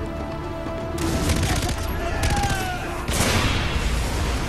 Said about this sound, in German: das hat explodiert